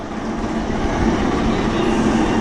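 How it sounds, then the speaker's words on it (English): A loud, steady rumbling roar of a roller coaster train at Cedar Point rolling along its track, building slightly as it passes close by. "We'll get a little footage when the train comes down."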